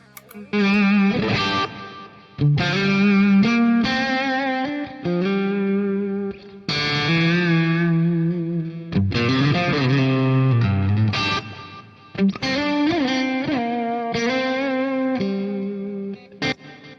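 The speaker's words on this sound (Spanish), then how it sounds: "Vamos a ver cómo suena con el plugin de Ventai de Reverb" Distorted electric guitar lead playing a song's melody, run through a reverb plugin: sustained singing notes and bends in phrases separated by short gaps, with a washy tail and no voices.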